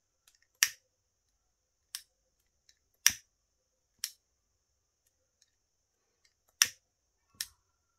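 Scissors snip off excess paper or fabric while shaping a rose, six sharp isolated cuts spaced irregularly over quiet background, crisp and close.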